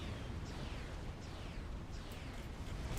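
Continuous rumbling explosions from a Supreme Commander: Forged Alliance battle churn in the background, faint and distant, with repeated bursts and pops layered into a steady low roar and no talking.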